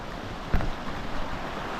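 Water laps softly near a lakeside bench at an RV campground, a steady washing rumble mixed with wind noise and one brief thump, with no talking.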